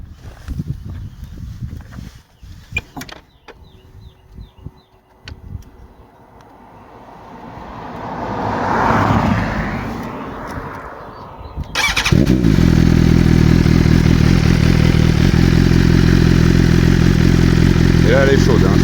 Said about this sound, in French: j'ai supprimé via le connecteur électronique la valve à l'échappement, donc là c'est full ouvert